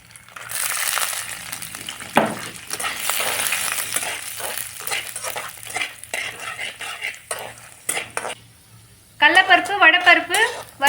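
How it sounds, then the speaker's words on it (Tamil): Chana dal and urad dal fry in hot oil after mustard seeds are tempered for upma, giving a soft steady sizzle while a spoon scrapes and stirs the pan, with someone talking over it. "கடலைப்பருப்பு, வடைப்பருப்பு வறுத்துருச்சு."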